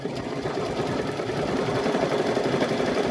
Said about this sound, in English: We're going to stitch this first hooping